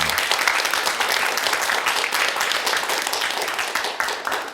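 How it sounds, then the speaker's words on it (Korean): An audience bursting into sustained, dense applause at a Korean lecture, loud and even throughout with many hands clapping at once, tapering slightly at the end. "이 점에 있어서 박수 한번 쳐주십시오."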